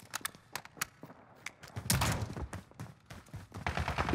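An Uzi fires in Call of Duty Modern Warfare, with faint, quick bursts of submachine gun shots and scattered thuds heard at a distance amid quiet game ambience.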